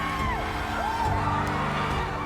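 An indoor crowd at a disabled handball league game cheers and shouts, with rising whoops and yells over a continuous roar, loud and sustained.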